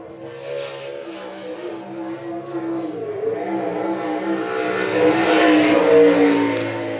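A sprint car on a qualifying lap at I-96 Speedway, engine revving and growing louder as it nears, then peaking and easing off, with no talk.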